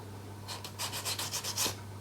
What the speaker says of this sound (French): il faut que je lime mes ongles